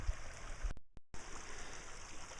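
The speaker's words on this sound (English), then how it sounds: "The water's coming so fast now" Fast water rushes steadily through a bisse irrigation channel in spring, a close, continuous hiss broken only by a brief dropout.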